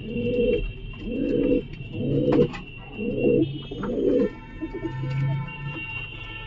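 Giribaz pigeons kept beneath a house coo nearby in a regular run of five throaty, rolling coos, followed by a softer, lower coo, over faint background hum.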